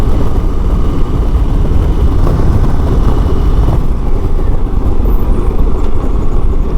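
2022 Harley-Davidson Heritage Classic with a Milwaukee-Eight 114 engine pulling hard on the road, a loud, continuous low rumble mixed with rushing wind, steady throughout with no talking.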